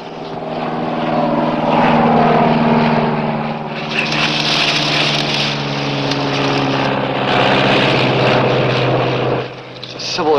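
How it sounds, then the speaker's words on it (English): The propeller engine of a Civil Air Patrol search plane drones loud and close for the whole stretch, its pitch swelling and easing as it passes overhead, with a slight dip near the end. "Civil Air Patrol searchers plane."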